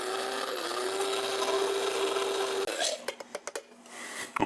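A Secura electric coffee and spice grinder runs at full throttle grinding spices fine, a steady high motor whine that cuts off abruptly, followed by several sharp taps and rattles of the ground contents.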